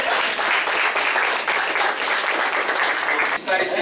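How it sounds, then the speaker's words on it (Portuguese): Applause fills a leadership-success talk event, dense steady clapping at close range running the whole time with a brief dip near the end. "E salve de palmas."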